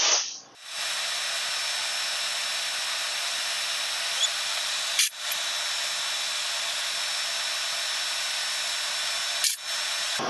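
A drill pecks away at a 60-year-old stud in the T14 turbo of a 1964 Cat D8H dozer, giving a steady, close, hissing whine interrupted by a few brief pauses as the bit is eased in small bites.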